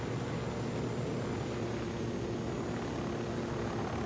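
Helicopter rotors in the video game Ghost Recon Wildlands, a steady loud broadband whir and thrum held close and constant throughout, with no voices.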